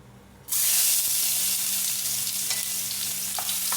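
Cooking oil for a fried mackerel sauce bursts into loud, steady sizzling in a pan after a quiet start, a bright continuous hiss with a few crackling pops.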